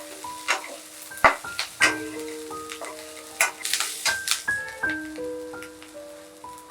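Red chillies, green chillies and ginger sizzle in hot oil in a pan while a Veg Maratha curry is cooked, a steady crackle broken by repeated sharp spatters and stirring clinks, with faint tonal background beeps.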